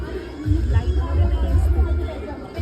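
A crowd of parents presses in for a group photo at a school event, a dense, steady hubbub of overlapping voices and chatter close by.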